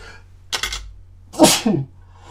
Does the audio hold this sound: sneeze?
yes